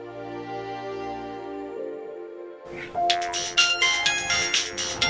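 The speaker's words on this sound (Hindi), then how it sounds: "मम्मी पापा का फोन आ रहा है।" A mobile phone ringtone signals an incoming call in a home, starting as a steady tonal melody and then shifting into a brighter, busier electronic tune that plays on clearly with no talk over it.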